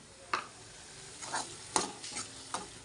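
Ground masala fries in oil in a pan as a spoon stirs it, with several soft scraping strokes over a quiet, steady sizzle and no talk.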